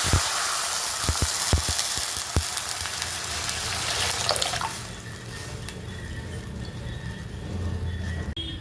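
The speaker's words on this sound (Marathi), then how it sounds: "आणि पाणी टाकून घेणार" Water hits hot oil tempered with cumin and asafoetida with a few sharp pops and crackles, then a steady hiss and bubbling sizzle settles in, close by.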